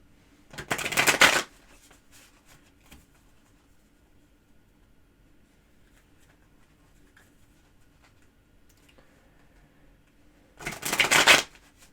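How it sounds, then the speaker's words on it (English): Two brisk riffles of a tarot card shuffle, one near the start and one near the end, separated by quiet with faint rustles. "I shuffled the cards"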